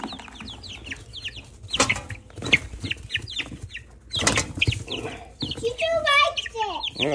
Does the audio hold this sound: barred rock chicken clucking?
yes